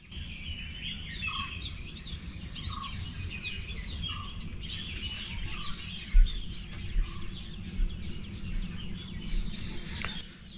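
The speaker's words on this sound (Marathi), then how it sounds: "इतके सुंदर असं पक्ष्यांचा किलबिलाट आवाज येतो इथे." Birds chirp and twitter in the morning at a resort in Lonavala, with scattered calls at moderate distance over a constant low hum and faint insect buzz, and no voices.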